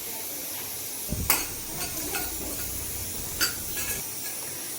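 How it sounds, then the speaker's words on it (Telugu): Whole coriander seeds and cumin dry-roasting in a pan, stirred with a few scraping clinks of a spoon against metal and a soft sizzle underneath, close and steady with no voices. "స్టవ్ ఆన్ చేసి బాండి పెట్టుకొని మసాలాని ఫ్రై చేసుకోవాలి"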